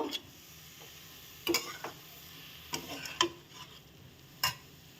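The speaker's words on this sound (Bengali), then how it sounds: "এখন আমি এর উপর দিয়ে দেব, দিয়ে আমি এটাকে ভালো করে নেড়ে নেব।" A spoon stirs Gobindobhog rice in a pan, producing a handful of faint, scattered scraping clicks against the metal over quiet background.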